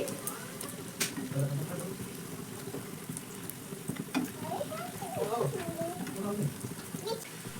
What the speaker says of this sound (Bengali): একদম কম তেলে এগুলো ভাজা হয়ে যায়